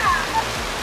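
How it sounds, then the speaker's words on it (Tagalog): Heavy tropical rain pours down in Boracay, a steady dense broadband hiss filling the whole short moment, with brief shouted voices over it. "Grabe yung ulan!"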